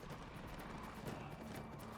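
Horse hooves galloping in the video game Darkwatch, a quiet, rapid clip-clop of hoofbeats running steadily through the whole short stretch with no talk over it.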